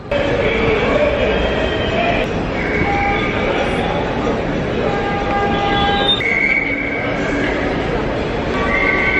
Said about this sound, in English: We have to take a train to the next terminal